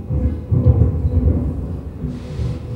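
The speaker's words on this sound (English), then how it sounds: "Oh, looks like a storm is headed this way" Thunder from an approaching storm rolls in low and heavy, a sustained rumble swelling and easing with faint rain hiss above it, no voices.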